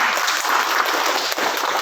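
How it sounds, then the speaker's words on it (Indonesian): A crowd claps steadily for the staff at an event of Sekolah Tinggi Agama Kristen Nabire, Papua, a dense, continuous burst of loud applause with no one speaking over it. "tepuk tangan untuk mereka."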